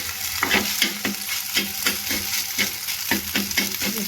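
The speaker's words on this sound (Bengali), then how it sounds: "এইভাবে একটু ডিমটাকে ভালো করে ভেজে নিতে হবে, লাল লাল করে।" Eggs fry in a hot pan with a steady sizzle, broken by rhythmic scraping strokes of a spatula stirring them every half second or so, close and without speech.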